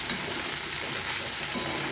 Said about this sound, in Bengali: ভালো করে আরও কিছুক্ষণ নেড়ে চেড়ে নেব, তাহলে আমার ভাজা হয়ে যাবে